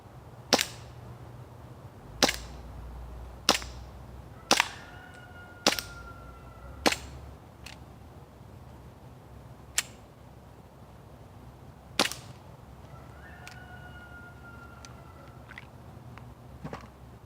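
A WE M92F Samurai Edge airsoft pistol fires about ten sharp, isolated shots at uneven intervals, each a crisp snap with faint ringing after, running low on gas, outdoors in quiet surroundings.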